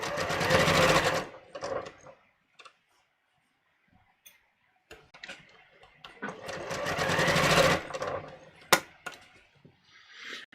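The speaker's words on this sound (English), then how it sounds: "let's sew this sleeve. I'm just sewing at a 1/2 inch." Up close, a sewing machine stitches a garment sleeve at a half-inch seam in two long, fast bursts, separated by quieter handling clicks and taps.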